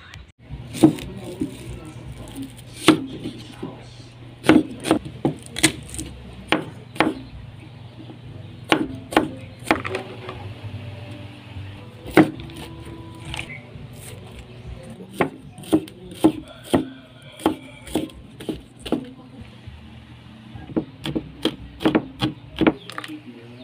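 Knife chops land on a cutting board in irregular bursts, some quick runs and some single taps, fairly close with a quiet room behind.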